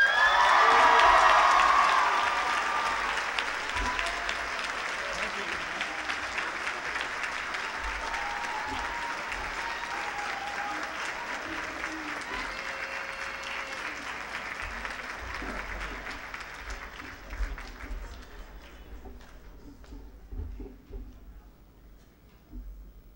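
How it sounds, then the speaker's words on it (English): Graduation audience breaks into loud applause for the 2018–2019 valedictorian; the clapping swells at first, then settles into a steady ovation that gradually thins and fades over about twenty seconds. "please give a warm round of applause for your 2018 to 2019 valedictorian, Andy Huang."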